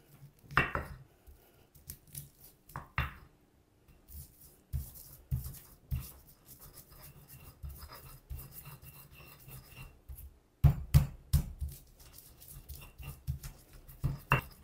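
Stone-on-stone grinding and pounding of garlic and spices in a stone mortar come in irregular scrapes and knocks, with a few sharper thuds near the end.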